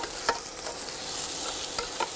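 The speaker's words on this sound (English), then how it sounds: "I'm just going to add the onion in now." Onion frying with mustard seed in a deep pan gives a steady, close sizzle with hissing crackle, broken by a few scraping stirs, continuous and moderately loud.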